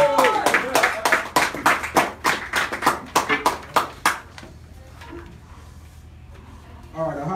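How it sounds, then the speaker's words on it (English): Audience applause at a Black African culture celebration show, a burst of rapid claps with whoops that swells loudly for about four seconds, then fades into quieter room noise and faint voices. "give Ahadi Ture your undivided attention and a big, big round of applause, y'all"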